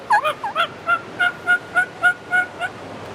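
A diaphragm mouth call held against the roof of the mouth is blown to imitate a turkey, producing a quick, close, loud run of about ten yelping notes that fall off after three seconds.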